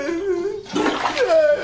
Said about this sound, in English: They actually flushed them down the toilet.